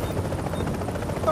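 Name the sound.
helicopter in video game The Division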